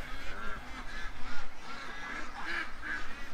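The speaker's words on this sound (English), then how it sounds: "Oh, ducks." Ducks honk and quack near water, a loud cluster of repeated calls overlapping in an irregular rhythm.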